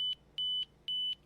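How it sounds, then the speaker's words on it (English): TOZO Golden X1 earbuds ringing in find mode, repeating pairs of high, piercing electronic beeps in a steady rhythm, faint and close with nothing else around them. "I can hear the earbuds ringing"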